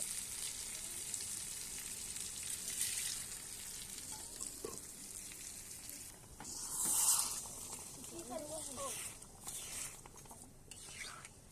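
Soft, faint sizzling of lentils poured into a hot pan for a tarka dal, a low frying hiss with a few stirring scrapes and a quiet voice now and then.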